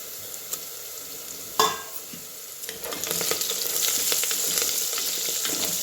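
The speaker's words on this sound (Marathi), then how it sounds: "एक खडे मसाले तेलात टाकून भाजून घेऊया" Whole spices hit hot oil with a sudden loud sizzle, joining browned onions for spiced masale bhaat rice; the crackling frying then swells and holds steady as a dense hiss with small pops, without any talk.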